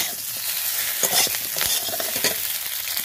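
Food being stirred in a hot frying pan while preparing a children's school tiffin: steady sizzling throughout with repeated scraping strokes of a utensil, close and moderately loud, no voices.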